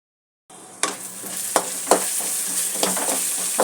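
Garlic, onion and ginger sautéing in a pan: a steady sizzle starts abruptly, with several sharp clacks from stirring scattered through it.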